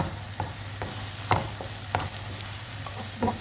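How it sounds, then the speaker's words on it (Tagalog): Egg and tomato fry in a pan with a steady sizzle while a utensil stirs and scrapes in several distinct strokes, close and clear with no talking. "haluin ko siya para maluto lahat yung part ng itlog"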